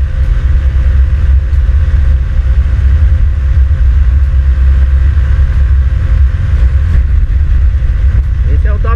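Honda Pop 110i motorcycle at top speed, a loud continuous low engine drone blended with heavy wind rush that stays steady throughout.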